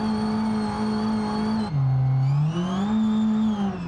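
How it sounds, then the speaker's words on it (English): A modified Renault Twingo with nitrous in BeamNG holds a buzzing, high-revving drone at redline, bogs down into a lower tone for a moment, then climbs back up and stays steady and loud throughout. "It's literally just redlining constantly. And then it bogs down."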